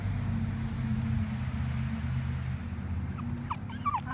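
A puppy gives a few short, high whimpers near the end, faint against a loud, steady low rumble of nearby traffic or a bus.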